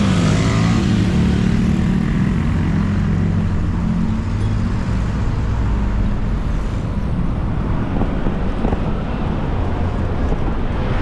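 Motorcycles driving off in Tetlan, Guadalajara: engines rumble continuously at close range with wind noise buffeting the microphone, a steady mechanical drone that stays loud throughout.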